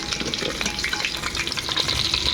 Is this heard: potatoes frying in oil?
yes